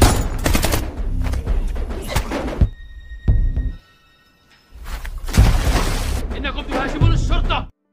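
A police chief opens fire in an action film scene, with loud bursts of gunshots and heavy impacts in two intense volleys separated by a quieter gap, mixed with voices and dramatic soundtrack.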